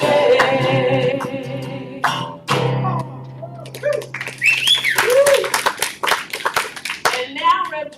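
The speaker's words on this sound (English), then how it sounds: "Let's give Shay a round of applause" A Sunday service congregation claps briefly, the applause close and bright for a couple of seconds, then thinning into scattered claps as voices talk and call out over it.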